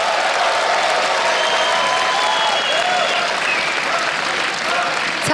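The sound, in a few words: audience applauding at esports match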